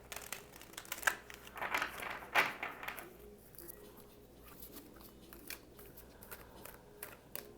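Tarot cards are handled and lightly shuffled at close range, with soft riffling and crinkly flicks in the first few seconds, then quieter scattered handling noises.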